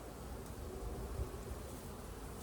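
Honeybees hum steadily around an open hive where comb is being checked, a continuous low drone close by with no voices.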